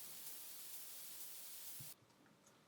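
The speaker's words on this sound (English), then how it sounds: "I have this white noise groove, which is actually basically just a white noise." A white noise groove sample from a Logic Pro remix gives a loud, steady, full-band hiss. It cuts abruptly to a much quieter wash of noise near the end.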